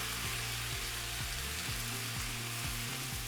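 Chickpeas, zucchini and spices sizzle and fry steadily in a hot skillet, a continuous close hiss with no voices, while a low repeating tonal pattern plays underneath.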